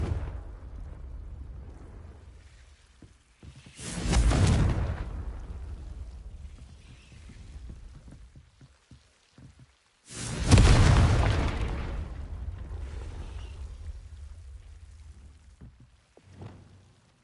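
Two loud explosions from the Confringo blasting spell in Hogwarts Legacy, each a heavy boom that tails off into a long rumble, separated by several seconds of quiet.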